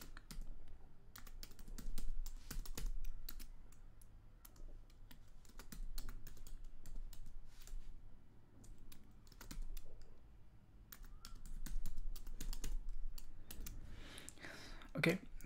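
Typing on a computer keyboard while entering a username and password, with steady, close clicking keystrokes in uneven bursts and short pauses, plus a faint voice near the end.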